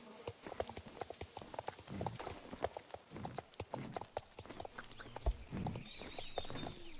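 Rhythmic clip-clop of a horse's hooves while riding through a small town in the video game Star Stable, steady and close, with soft game ambience and a faint high chime near the end.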